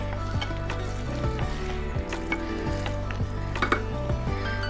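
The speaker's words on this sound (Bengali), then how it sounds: "ডিমটা দিয়ে সাথে সাথে সবজির সাথে মিশিয়ে দেবো।" Vegetables and eggs frying in a pan for Maggi noodles, a continuous close sizzle with repeated scraping and stirring strokes of a spatula.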